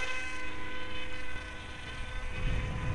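Engine of a radio-controlled model airplane just after a hand launch, running slightly rough, a steady buzzing drone with many even harmonics that dips in level midway, then swells again with low wind rumble.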